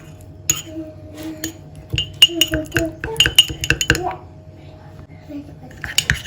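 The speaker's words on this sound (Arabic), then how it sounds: "نحركو مزيان كما كتشوفوا معايا داك الثومه، نحركوها مزيان باش تعطينا النتيجه" A spoon clinks and scrapes against a bowl while a garlic mixture is stirred, with a quick run of sharp taps in the middle and a steady low hum beneath.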